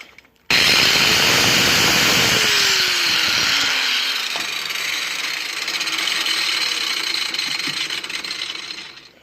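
A 4-1/2 inch Makita 6 amp angle grinder whirs up abruptly and keeps running loud and shrill, its whine easing slightly before it cuts off at the end.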